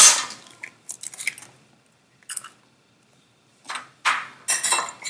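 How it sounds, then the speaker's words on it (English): Two eggs being whisked in a bowl, quick bursts of clinking utensil-on-bowl strokes separated by short silences, close and fairly crisp. "Now, from out of those 2 eggs, I'm going to whisk"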